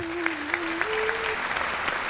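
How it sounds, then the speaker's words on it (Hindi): Audience applause breaks out during a talk on the Ramayana, a steady wash of clapping from a crowd heard throughout with a faint sustained tone running beneath it. "के साहस के लिए जोरदार तालियां बजाइए"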